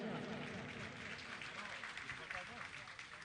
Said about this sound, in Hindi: तालियां तो बजाइए आप